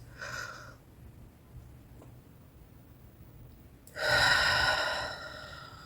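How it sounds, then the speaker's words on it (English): A person demonstrates irritated breathing with forceful hissing exhales: a short breath near the start, then a longer, louder hiss after a pause, close and without speech. "when I was exhaling, I was not just exhaling, I was probably hissing."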